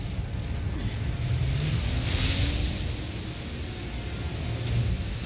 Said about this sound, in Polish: Skuter wodny jest wodny!